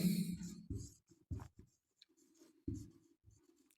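A sentence is written by hand on a board in short, irregular scratching strokes with brief gaps between letters, close and clear, with no voices.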